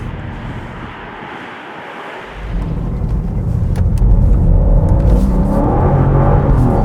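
A BMW M3 Touring driven in pure rear-wheel drive mode, engine and road roar rising sharply partway through into a loud, sustained drone with heavy wind rush.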